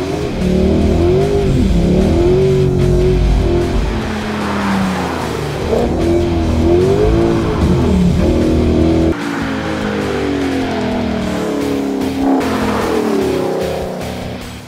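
A tuned rear-wheel-drive car putting out 326 kW at the wheels accelerates hard down a race track straight with wheel spin, its loud engine revs rising and falling through repeated sweeps, with a faint tyre squeal and no voices.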